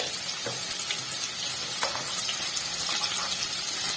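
Potatoes frying in hot oil in a wok with a dense, continuous crackling sizzle and a few light scrapes, close and loud.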